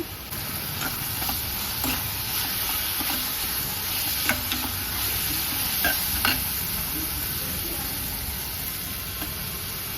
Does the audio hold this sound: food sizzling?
yes